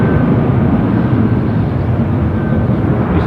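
A jet airliner at Düsseldorf Airport, a loud, steady low rumbling roar with a faint whine on top, continuous for a few seconds with no talk.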